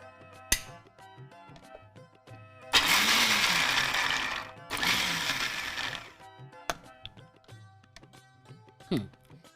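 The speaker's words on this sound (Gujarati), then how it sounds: "1 કપ તુવેર દાણા લીધા છે અને મિક્સર જારમાં ક્રશ કરી લઈશું" A mixer grinder crushes a cup of pigeon pea (tuvar) beans in two loud bursts of coarse whirring grind, each a couple of seconds long, separated by a short pause, with scattered kitchen clatter before and after.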